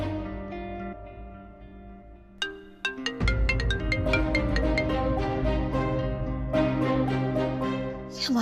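A melodic phone ringtone plays, starting softly and then swelling into a bright, repeating electronic tune with plucked notes, steady and fairly loud.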